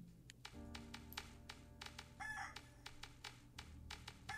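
Chickens from the video game Outpost cluck and crow in a steady stream of game sound, with rhythmic tapping pulses and a brief crowing call midway.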